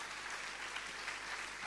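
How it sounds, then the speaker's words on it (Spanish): Church congregation applauding together, a steady, dense wash of clapping hands filling the room without pause. "Ahora sí, da un aplauso al Señor."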